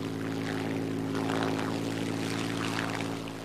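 Supermarine Spitfire propeller aircraft flying, a steady loud engine drone with strong harmonic hum and rushing noise, continuous and close throughout with no talking.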